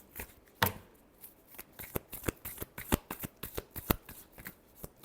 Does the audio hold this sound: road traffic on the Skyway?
no